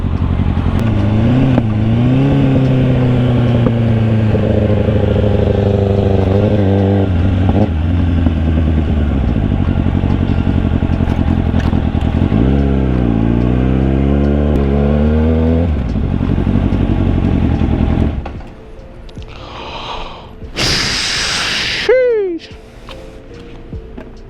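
A motorcycle with a freshly fixed exhaust idles and revs loudly on a street, its engine note rising and falling in repeated blips for about eighteen seconds before cutting out, followed by brief high whine and quieter background.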